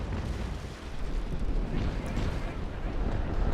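An enemy frigate fires its cannons at a ship's stern during a naval battle in Naval Action Legends. Heavy booming rumble and dense noise carry on continuously, with overlapping blasts and no clear gaps.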